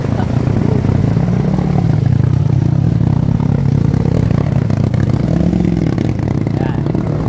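Loud, steady motorcycle engine droning close by during flooding in Apalit, Pampanga, Philippines, with slight rises in pitch as it revs, plus rattling clatter.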